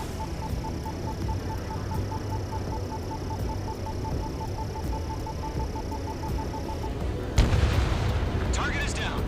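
Anti-aircraft fire in Ace Combat 7 arrives as a sudden burst of heavy booms and crackling blasts after a steady stretch of aircraft engine drone and a repeating beeping tone.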